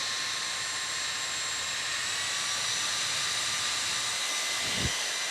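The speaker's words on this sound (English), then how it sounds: "giving you a sense of the fan speed and noise as well" A small EasyAcc portable handheld turbo fan runs at speed, giving a steady, fairly loud whooshing hiss with a faint high whine. There is a short bump near the end and no speech.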